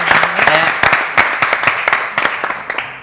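A television studio audience applauds on a Buenos Aires morning show, with loud, dense clapping from many hands that tapers off gradually and has a few voices mixed in.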